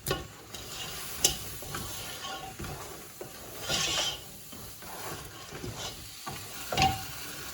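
Crab with masala sautéing in a pan, a steady low sizzle beneath repeated scraping and stirring clatters from a spoon, with a few sharper metallic clinks, no talk.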